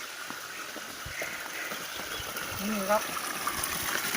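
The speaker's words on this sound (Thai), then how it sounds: "ครับเจอน้ำตกแล้ว" Hot spring waterfall at Krabi, Thailand, a steady broadband rush of flowing water close by, with someone speaking briefly over it.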